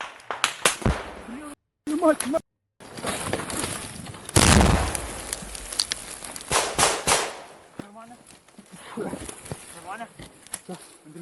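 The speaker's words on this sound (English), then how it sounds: "The grenade flies back and goes off." A grenade goes off in a combat clearing of a dugout, a sharp loud blast with a burst of noise amid gunfire-like cracks, scattered pops and voices of soldiers talking around it.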